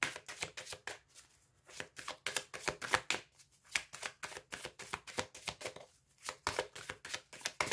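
A deck of tarot cards is shuffled up close for a reading, giving rapid rhythmic riffling bursts with short pauses between them and no talking.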